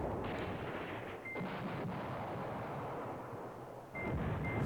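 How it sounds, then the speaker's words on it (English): Continuous rumbling artillery fire from the Command Ops 2 war game, a dense roar of overlapping booms that stays loud throughout and swells again near the end, with no voices. "Dropping artillery on the artillery is, I think, the most effective use of artillery"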